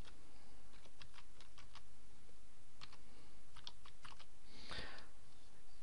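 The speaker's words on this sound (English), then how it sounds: "the first thing to do is to enter the domain name that you're thinking about registering" A domain name typed on a computer keyboard: short bursts of quick, light key clicks with pauses between them, close and fairly faint, with no talking.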